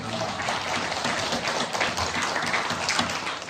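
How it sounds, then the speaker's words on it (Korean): Steady, sustained applause from a large church congregation fills the room, a dense wash of clapping holding at an even level throughout with no talk over it. "우리 하나님께 영광의 박수 올려드립니다."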